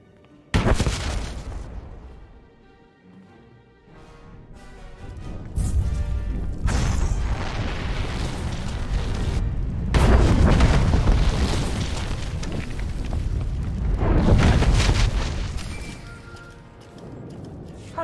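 Explosions in the Star Wars: The Old Republic video game, a loud sudden blast followed by heavy rolling booms and rumbling debris in several surges, with a quieter lull between them.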